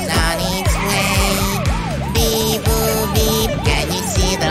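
An ambulance siren wails in a fast, repeating up-and-down pattern over a bouncy children's song with a pulsing beat, loud and close throughout.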